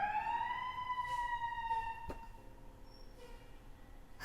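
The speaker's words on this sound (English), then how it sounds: "Sorry about the siren." A siren wails outside at moderate distance, its tone sliding downward and fading, over steady background hum with a sharp click midway.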